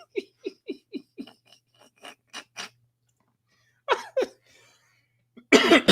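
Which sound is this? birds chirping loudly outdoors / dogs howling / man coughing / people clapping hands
man coughing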